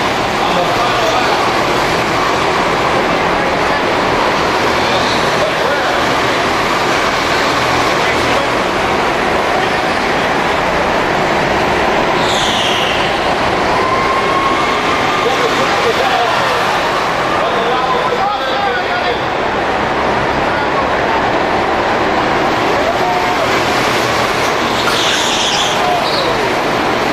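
Race cars on the final lap circling nearby with a continuous engine roar, a couple of them passing close, under an announcer and crowd chatter.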